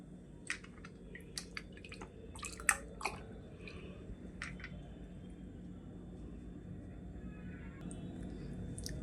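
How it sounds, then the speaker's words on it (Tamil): Bare hands knead mutton together with tomato and onion, giving soft wet squelches and sticky squishes close by, clustered early and then fading into a quieter low background. "இப்போது இது நம்ம தக்காளி வெங்காயம் கறி இதெல்லாம் சேர்த்து இதோட இப்படி பிசையணும் கறியோடு சேர்த்து"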